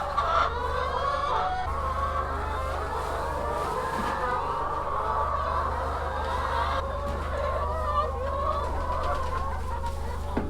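Several chickens cluck and murmur continuously nearby over a low engine hum, with occasional louder squawks, no one speaking.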